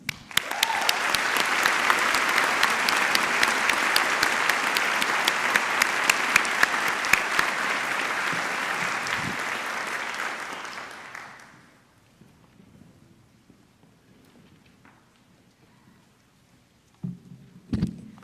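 Sustained audience applause for Gold Humanism Society and Honor Society inductees at a 2014 UNC School of Medicine White Coat Ceremony, loud and steady for about eleven seconds before fading to near silence, then a brief clatter at the end.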